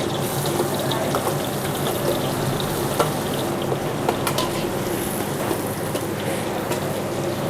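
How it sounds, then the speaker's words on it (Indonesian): Garlic and shallots sautéing in a pan for fried chicken, a loud, dense, continuous sizzle and crackle close up, with occasional scraping stir noises and no voices over it. "sekarang kita langsung aja tumis bawang-bawangannya. Ada bawang putih sama bawang merah"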